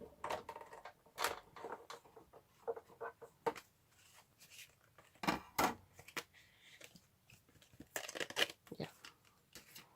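A blade cuts through card in repeated back-and-forth strokes, making close, scratchy scraping bursts with short pauses between them and a brief word spoken partway through.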